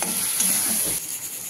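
Spices with salt and turmeric frying in a pan, a close, bright sizzle with soft stirring scrapes underneath, steady for a moment before easing slightly.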